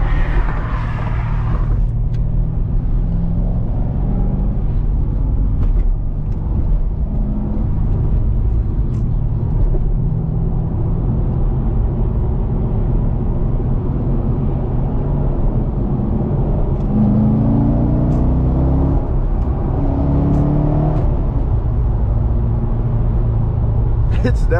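A C6 Corvette Z06 engine with its exhaust valves open, idling and revving in a loud, steady drone with a few rising revs, heard close, with occasional talk over it.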